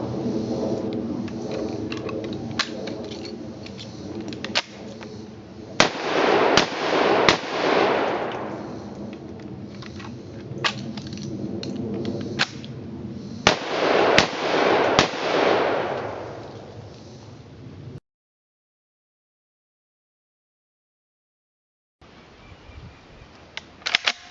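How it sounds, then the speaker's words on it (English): A Remington Model 8 rifle fires in short bursts, loud sharp cracks clustered in two groups of rounds with handling clatter between, then a stretch of silence before more faint mechanical noise. "we're going to load 3 rounds, fire them. We're going to load another 3 rounds and fire them."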